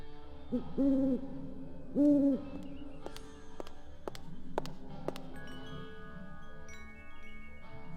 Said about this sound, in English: The owl or the view?